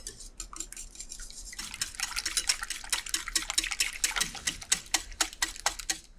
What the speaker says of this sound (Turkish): Çırpıcı ile iyice karıştırın.